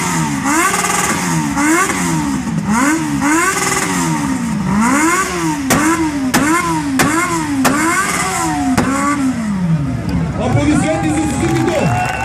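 A blue Suzuki motorcycle revs hard in repeated rising and falling bursts at a loudest-bike contest, the engine close and loud while a crowd and an announcer's voice come through beneath it.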